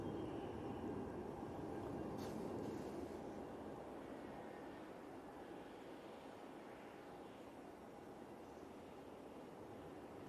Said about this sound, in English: The beautiful Cathay Pacific A350-900. Now on short final for 23 right.